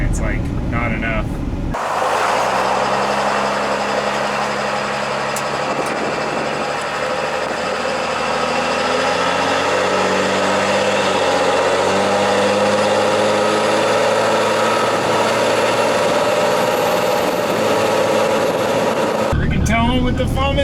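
A Cummins diesel swapped into a Ford truck idles steadily at close range, a continuous low rumble with a faint high whine riding above it, cutting in abruptly near the start and dropping out just before the end.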